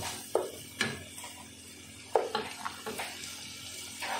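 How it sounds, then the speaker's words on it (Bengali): Spices stirred with Kashmiri chili powder in a pan, heard as a few quiet, separate scrapes and knocks of a spoon against the pan over a soft background, with no talking. "কাশ্মীরি মির্চিটাতে ভালো করে সমস্ত মশলায় নাড়িয়ে চাড়িয়ে"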